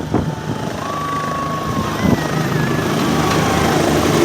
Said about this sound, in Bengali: ল্যান্ডিং করছে, হেলিকপ্টার দেখতে পাচ্ছ